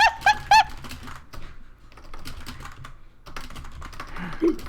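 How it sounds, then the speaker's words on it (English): Someone taps out a text message in quick, uneven clicks of typing, close and moderately loud, after a few brief chirps, with faint background chatter from people in the room. "let me text him"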